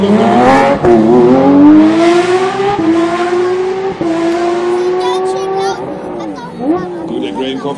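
Rally car drifting at the 2013 AvD Sachsen Rallye near Zwickau, its engine roaring loud and close with sustained revving that climbs and dips in pitch, while a voice talks over it.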